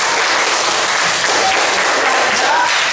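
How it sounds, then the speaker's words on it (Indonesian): A fourth-grade class in an Indonesian-language lesson applauds together, a dense, steady wash of many hands clapping without a break for about three seconds. "Tepuk tangan untuk kita semua."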